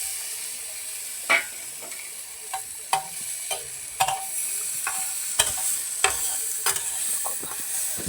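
Tomatoes and onions sautéing in a pan, a steady soft sizzle broken by sharp scraping stirs and spatula clicks at irregular intervals, close and moderately loud with no voices.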